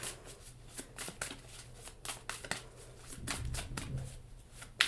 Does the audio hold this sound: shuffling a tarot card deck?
yes